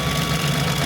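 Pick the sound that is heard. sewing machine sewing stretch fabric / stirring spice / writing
sewing machine sewing stretch fabric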